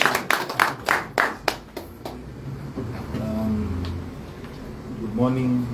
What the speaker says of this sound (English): We'll give you a round of applause.